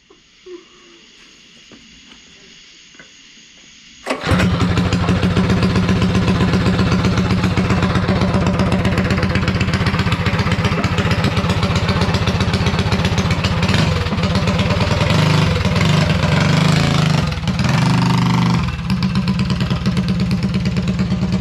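A 212cc Predator engine on a flat track minibike is quiet for about four seconds, then starts up and runs loud and close with a steady buzzing drone, its pitch wavering near the end.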